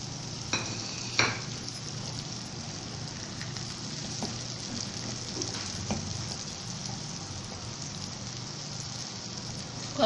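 Onions and tomatoes for masala Maggi sizzle and fry in a pan, a steady close crackle with a few stirring scrapes and clinks, no talking.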